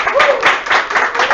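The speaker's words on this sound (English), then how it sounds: "let's give them a round of applause for being on the show" Brief applause for the hosts of a talk show, a few quick bursts of clapping from a small group with a voice briefly heard underneath.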